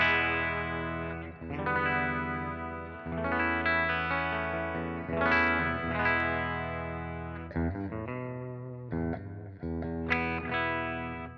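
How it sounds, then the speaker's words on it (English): Electric guitar played through a Fender Super Twin Reverb amplifier, a melodic line of sustained, effect-laden notes with chorus-like shimmer and some distortion, close and alone with no talking. "this is my Fender Super Twin Reverb"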